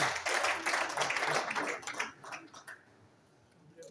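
A crowd at a political party signing ceremony claps and applauds steadily, then the clapping thins out and dies away.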